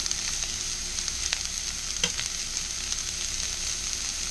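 Sliced onions fry in a hot pan with a constant crackling sizzle, a few soft stirring knocks audible close by, and no one speaking.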